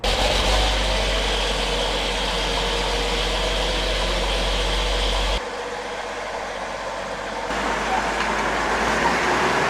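A Sherman tank's brand-new engine runs steadily, a deep, loud rumbling drone that dips briefly before returning, with talk faintly underneath.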